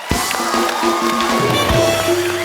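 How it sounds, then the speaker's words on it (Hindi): Studio audience of a Hindi comedy show claps and cheers for Baba ji over a sustained musical backing tone, loud and lively throughout the short burst. "बाबा जी के लिए जोरदार तालियां हो जाएं।"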